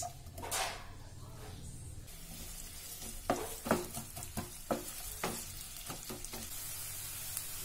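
Sliced onions fry in a pan with a soft hiss, then a run of sharper scraping stirs and clatters comes near the spoon. No one speaks.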